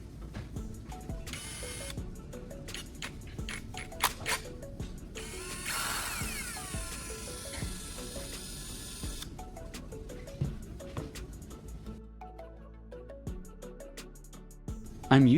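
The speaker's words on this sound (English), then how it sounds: "I'm using a drill to spin the rod and a pair of pliers to gently scrape off this outer layer into a small metal bowl." A drill spins a welding rod while pliers scrape off its flux coating into a small metal bowl, a quiet, close stream of rapid ratcheting clicks and gritty scraping with a brief whirring drill spin-up.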